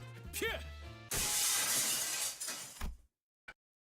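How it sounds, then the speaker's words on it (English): In the video game Limbus Company, a chandelier crashes to the floor: a few tonal game sounds, then a loud burst of shattering glass for about two seconds, fading to silence with one last small clink. "The chandelier crashed to the floor in full force, making a tremendous noise."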